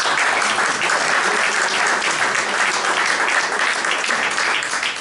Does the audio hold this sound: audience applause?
yes